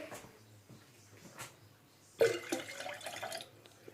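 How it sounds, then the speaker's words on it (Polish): Water splashes and trickles into a container for a baking soda and vinegar volcano, starting suddenly after a quiet stretch with a few faint clinks, then running steadily to the end. "teraz wlejemy trochę wody"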